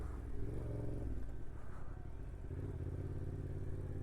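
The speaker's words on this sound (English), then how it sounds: "We got fellow adventure riders coming down this way." Adventure riders on dual sport motorcycles pass by on a trail, a steady close engine rumble with harmonic drone and slight revving, no talking.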